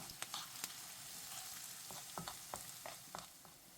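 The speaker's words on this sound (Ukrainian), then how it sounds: "Розігріваємо 4 столові ложки олії на пательні та спочатку обсмажуємо цибулю 2-3 хвилини до золотистого кольору." Steady oil sizzle with crackling pops, onion frying in a pan of hot oil, with occasional scraping stirs, fairly close and moderate in volume.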